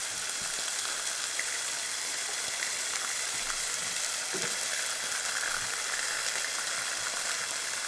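Bacon renders its fat in a frying pan, giving a steady, dense crackling sizzle that holds at one level throughout, close and continuous, broken only by a soft knock or two and no talking.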